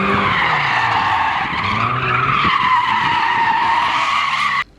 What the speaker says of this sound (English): So here's a skid for your troubles.